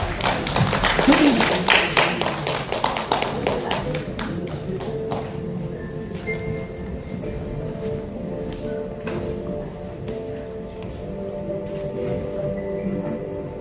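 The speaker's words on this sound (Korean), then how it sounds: "여러분 큰 박수로 환영해 주시기 바랍니다" An audience at a poetry recitation event bursts into applause to welcome the reciter; the clapping is loudest at first, thins out and fades after a few seconds, leaving a quieter room with faint tones and sounds.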